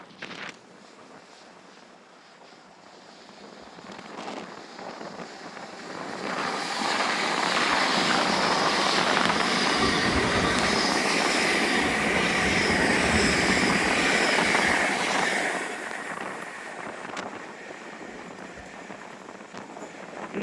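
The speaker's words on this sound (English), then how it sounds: "Couldn't hear a thing over the wind." Strong wind roars across the microphone beside a railway line, building to a loud, heavy rush in the middle before easing back to a lighter buffeting.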